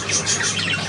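A budgerigar chirps in a continuous, close, bright twitter of quick high notes, with no talking over it.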